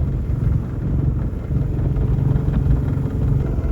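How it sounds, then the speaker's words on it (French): A steady low sailboat motor drone runs throughout, chugging evenly at a constant pace with no voices. "On a remis le moteur,"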